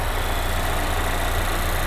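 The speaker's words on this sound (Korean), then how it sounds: "엔진 소리도 일정하네요." A third-generation Volvo S60 T5 Inscription idles with its engine bay open, giving a steady, even, close-up hum and whir with no changes in pitch.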